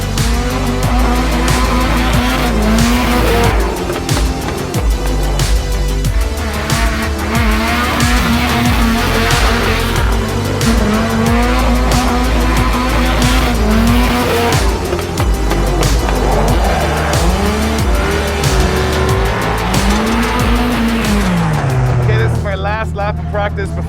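A drift car engine revs hard continuously, running out of gear, while tires squeal and skid in repeated rising and falling wails at the British Drift Finals, close and busy throughout.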